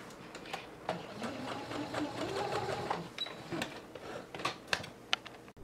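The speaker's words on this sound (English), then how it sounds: "take them to the machine and baste them in place" A home sewing machine basting loop pieces onto a bodysuit front, running in steady stitching bursts with a continuous mechanical whir, close and fairly loud, broken by brief pauses and clicks.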